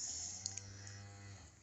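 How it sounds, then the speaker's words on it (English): A cow moos in a barn at night, one long low steady call lasting over a second, moderately distant and alone, with a faint hum and a couple of small clicks behind it. "I don't know if you hear that moo in the background"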